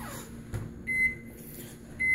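A kitchen timer or microwave beeps in short, high, thin tones, two separate beeps spaced about a second apart over a quiet room with a soft thump between them.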